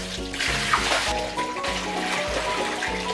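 Steady rush of water pouring and splashing into a large aquarium, continuous and fairly loud, with a low rhythmic rumble underneath and no voices.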